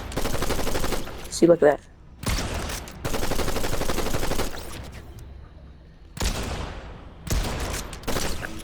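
Assault rifle fire in Fortnite, played on a controller: several loud bursts of rapid shots separated by short gaps, with someone speaking briefly over the shooting.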